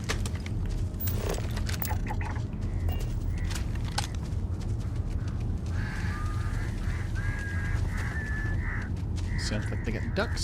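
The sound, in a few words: ducks or geese honking in video game Starfield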